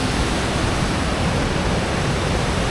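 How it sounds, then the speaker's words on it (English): Heavy pouring rain beside a river and waterfall at Cat Village in Vietnam forms a dense, unbroken roar of rushing water, loud and steady throughout with no voices. "In the pouring rain."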